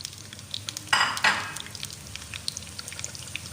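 Onion, garlic and ginger frying in hot oil for a dal tadka, a close sizzle with two loud hissing bursts early on, then lighter crackling and spitting, with no talking.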